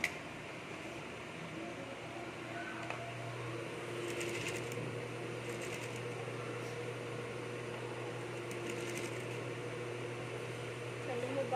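A sewing machine stitches fabric with a low, steady motor hum, a few brief rattling bursts of needle movement rising out of it now and then.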